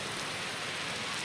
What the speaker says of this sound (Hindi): बारिश देखो इतनी तेज आ रही है